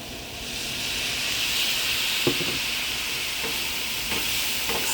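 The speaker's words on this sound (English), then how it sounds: "Add a liquid smoke to also kind of like deglaze the pan." Liquid smoke deglazing a hot pan gives a steady, close sizzle and hiss of frying that runs through the whole stretch, with a few soft clinks and stirring sounds along the way.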